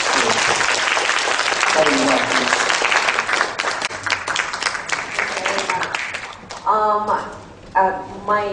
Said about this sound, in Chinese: 大家掌声。